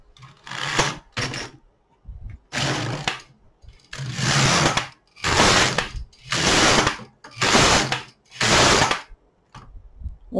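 A domestic knitting machine carriage is pushed back and forth for six rows while knitting the back yoke of a cardigan, each pass a loud mechanical rattling sweep followed by a short pause, with no voices.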